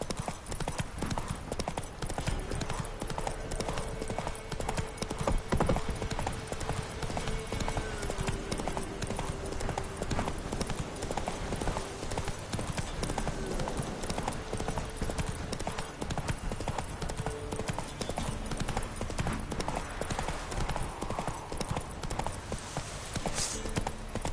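The horse Roach trotting in The Witcher 3: Wild Hunt, a steady rhythmic clip-clop of hooves running continuously under game music and ambience, with brief voices.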